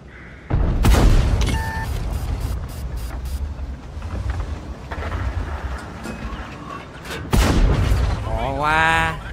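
Tank artillery fire in the World of Tanks video game: heavy booming cannon shots and explosions with rumbling engine noise, a voice talking excitedly over the battle throughout.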